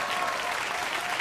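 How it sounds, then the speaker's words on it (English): A studio audience on a late-night talk show applauds, a short burst of dense, steady clapping that holds at an even level. "Give her a round of applause."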